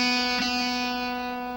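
A single electric guitar note, the open B on the second string, rings out clean and sustained, fading slowly with no other sounds.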